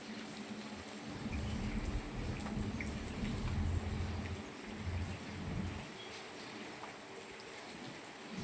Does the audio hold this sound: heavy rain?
yes